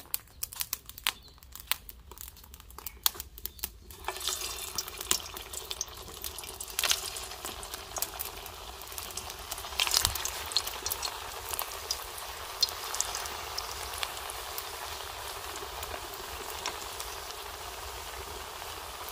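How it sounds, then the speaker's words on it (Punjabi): Aloo tikki potato cutlets fry in hot oil with a continuous crackling sizzle and scattered pops, steady and close throughout. "ਹੁਣ ਅਸੀਂ ਟਿੱਕੀਆਂ ਤਲ ਲੈਂਦੇ ਹਾਂ।"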